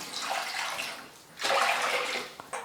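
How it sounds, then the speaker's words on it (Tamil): Water poured into a pot of cooking dal and greens, a steady splashing pour that pauses briefly and then resumes more strongly, heard alone and close. "தேவையான அளவுக்கு தண்ணி சேர்த்துக்கலாம்."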